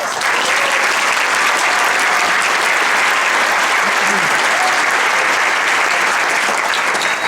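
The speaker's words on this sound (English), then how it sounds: "So I just want to thank him and give him a round of applause." Sustained, loud audience applause fills a crowded theatre at a Disney Infinity unveiling event in Hollywood's El Capitan Theatre, a dense wash of clapping that holds steady from start to finish with no gaps.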